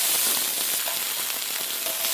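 Bracken (gosari) stir-fried with a splash of water in a pan, a constant close sizzle and steamy hiss with scattered small pops, uninterrupted and without voices.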